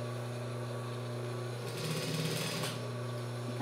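A domestic sewing machine runs with a steady whirring hum as it stitches gathers into fabric for a child's shorts, with a brief louder burst of stitching partway through.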